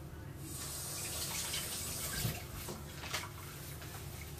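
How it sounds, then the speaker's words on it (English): Tap water runs steadily into a sink for hand washing in a home kitchen, a soft continuous hiss with a few faint splashes, alone without talk. "Wash your hands."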